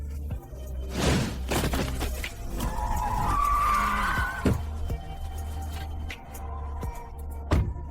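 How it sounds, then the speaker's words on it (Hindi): A car skids on a snowy road, loud tire squeal and scraping bursts with a sharp impact, then a long screeching slide, with scattered clattering debris afterward. "बर्फ में सड़क फिसलती है। तुमने गाड़ी क्यों नहीं देखी?"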